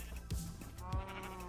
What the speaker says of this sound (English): Come here, other sheep.